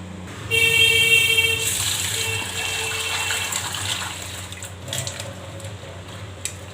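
Masoor lentils are washed under running tap water in a kitchen, a steady close gush and splash with a brief ringing tone at the start and faint knocks near the end.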